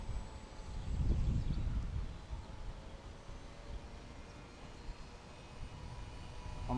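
A HobbyZone Super Cub S radio-controlled plane passes overhead outdoors, its small electric motor buzzing louder during a low flyby near the start before fading into a faint drone against the background, with no talking.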